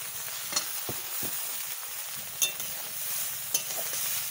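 Chow mein frying with biryani masala, a steady bright sizzle close up, punctuated by a few sharp clicks and scrapes of a utensil stirring in the pan, with no voices.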